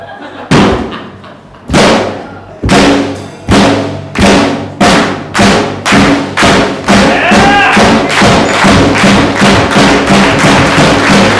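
Slow hand claps ring out one at a time in a steady rhythm, each sharp and loud with a short decay, gradually speeding up and packing closer together toward the end.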